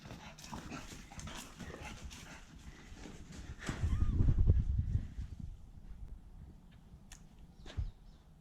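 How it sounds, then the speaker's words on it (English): Dogs playing in a garage workshop during Lexus LS400 engine work, heard as a scuffle of paws, thumps and soft canine noises, with a louder burst in the middle and a brief sharp sound near the end. "The dogs are playing."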